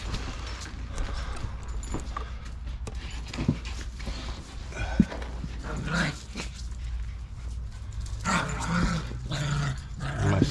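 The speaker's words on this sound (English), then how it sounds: "my psycho puppy's playing because they're happy mom's outside" A playful puppy growls and yips outdoors in a garden, its rough bursts coming in scattered spurts over steady background noise, with some rustling and movement mixed in.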